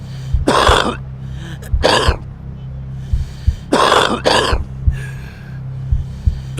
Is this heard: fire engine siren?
no